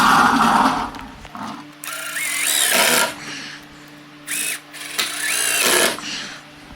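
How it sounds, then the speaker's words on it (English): A power drill drives screws into 2x4 lumber while building string light planters, giving several loud, close whirring bursts of a few seconds each, separated by short pauses. "I throw in 2 screws per 2x4 on each side."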